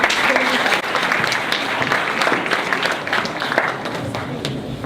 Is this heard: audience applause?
yes